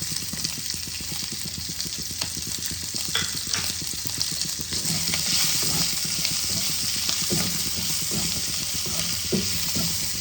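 Chopped onions fry in hot oil seasoned with whole garam masala and cumin seeds for an egg and potato masala curry. A loud, continuous sizzle is broken by occasional stirring scrapes, heard close with no voices.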